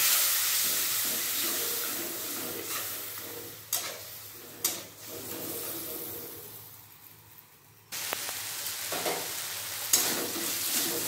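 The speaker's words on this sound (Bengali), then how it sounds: "জল দিয়ে মশলাটা ভালোভাবে কষিয়ে নেব" Spice paste with turmeric, cumin and tomato sizzles in a pan with added water for a Bengali vegetable curry, hissing steadily at close range, broken by a few sharp stirring clatters and a sudden louder sizzle burst partway through.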